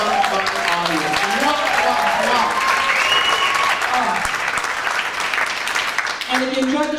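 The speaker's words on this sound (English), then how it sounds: "give yourselves a round of applause" A drag comedy show audience applauding together, sustained clapping throughout as a performer keeps talking over it.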